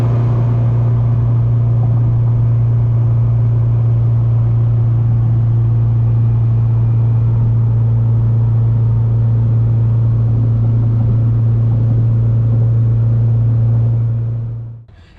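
Turbocharged Honda Civic pulling away in the early-morning dark, a loud steady engine drone with deep low rumble holding for most of the stretch before fading out at the end.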